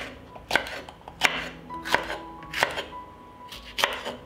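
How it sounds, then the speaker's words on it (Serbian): A knife chops a hot chili pepper on a cutting board in a kitchen, five or six crisp, separate strikes at a slow, even pace, close and fairly quiet with no talking. "Iseckat ću i 1 ljutu papriku."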